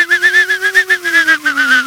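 A voice imitates a car stuck in snow spinning its wheels, a close, loud whining tone that rises and falls in rapid regular pulses over a steady low drone, with no other sound.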